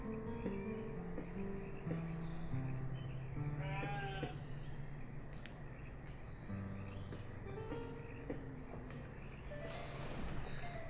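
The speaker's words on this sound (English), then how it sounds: "I didn't expect them to have sheep this early on." Sheep bleat repeatedly over a busy game soundscape in Banished, with occasional bird calls and steady background music or ambience.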